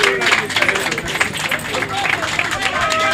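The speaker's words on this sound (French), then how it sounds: "sous vos acclamations nourries" An audience applauds and cheers at a Congolese lottery prize ceremony, steady dense clapping mixed with crowd babble, fairly loud and continuous.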